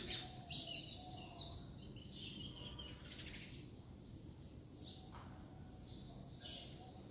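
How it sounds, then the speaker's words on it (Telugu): Faint birds chirp and tweet in a garden in short, scattered calls against a quiet, hissing outdoor background. "బర్డ్స్ అరుస్తూ ఉన్నాయి"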